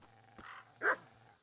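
A dog in Kingdom Come: Deliverance gives a couple of short barks over a low steady hum. The second bark is sharper and louder.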